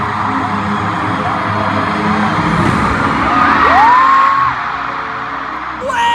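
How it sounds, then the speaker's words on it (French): Fireworks whistle upward and pop over a lively concert crowd that cheers and shouts throughout, the noise staying loud and busy. "je suis à des feux d'artifice"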